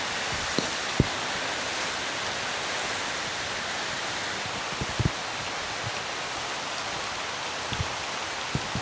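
Rain falling outdoors after several dry days, an even, hissing patter that fills the whole stretch, with a few louder drops landing close by.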